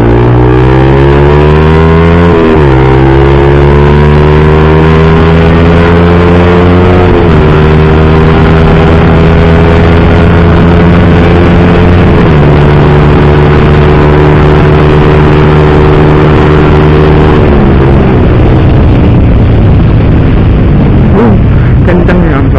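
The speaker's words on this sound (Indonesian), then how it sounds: "kalau kita buka dulu valve-nya, kita geber kayak gini suaranya" A motorcycle with an aftermarket exhaust, its DB killer valve removed, revs repeatedly at close range, each throttle blip rising in a loud, raspy roar before settling back, with no talk over it.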